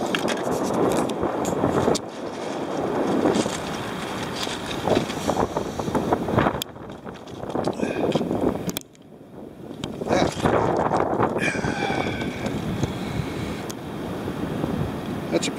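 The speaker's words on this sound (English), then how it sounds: "we've got some more wind going on with this" Strong coastal wind buffeting the microphone on a beach, gusting in rough loud waves with a brief lull midway, surf rumbling underneath and occasional faint sounds of someone nearby.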